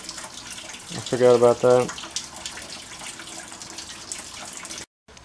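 Coolant drains from a GMC Sierra radiator in a continuous splashing, trickling pour that runs steadily at moderate level, while someone briefly speaks over it partway through.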